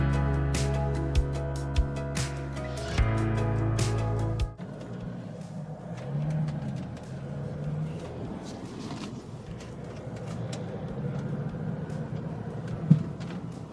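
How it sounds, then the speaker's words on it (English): Inside a 2007 Volvo V70 on the move, low road and engine rumble fills the cabin while scattered small knocks and clicks from interior rattles pop up irregularly, ending in one sharper clunk; no one speaks. "Can you hear how many rattles in this car?"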